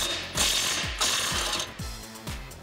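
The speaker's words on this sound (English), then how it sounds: "I'm gonna be using a 16 millimeter socket to remove our secondary bracket from our frame." A hand ratchet with a 16 mm socket loosens a bolt on a Jeep Wrangler JL frame bracket, giving several close, crisp bursts of rapid clicking with short pauses between strokes.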